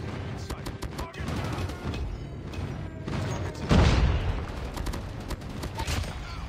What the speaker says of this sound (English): Drop the sentry gun. Call in the airstrike.